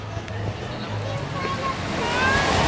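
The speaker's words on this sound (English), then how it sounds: "one of my favorite noises here in PV is the water crashing against the rocks" Surf washes and breaks against the rocks along the Malecon seawall in Puerto Vallarta, a steady broadband wash that swells gradually louder, with faint background voices and low hum mixed underneath.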